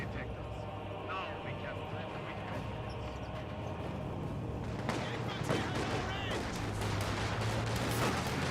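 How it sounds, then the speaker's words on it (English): Rifle squad gunfire rattles in the Company of Heroes 2 strategy game, a dense run of rapid shots that grows louder partway through, under steady commentary. "he is getting hit by a full squad of riflemen"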